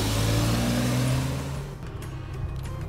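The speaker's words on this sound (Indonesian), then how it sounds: "Kita cobain ya BMW X5 ini nih, enak banget nih pas ini." A BMW X5 E53 engine revs under acceleration from inside the moving car, a low steady drone that swells early and then eases off.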